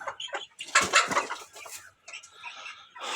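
This year's young Kuchinsky and Pavlovsk roosters on a home poultry farm clucking and calling in short bursts close by, with a brief flutter of wings among them.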